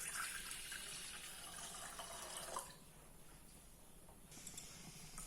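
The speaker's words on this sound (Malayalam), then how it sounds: "പാലും വെള്ളവും കൂടെ ഒഴിക്കണം." Milk and water poured into a pot on the stove for spiced tandoori-style tea, a continuous hissing splash that softens midway and then picks up again, close and with no talk.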